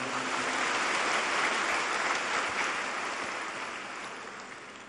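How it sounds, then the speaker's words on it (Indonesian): An audience at a spiritual gathering in Malang claps in a dense, sustained wash of applause that holds steady before slowly fading toward the end, with no voices over it. "Sekali lagi kita berikan aplaus buat beliau berdua."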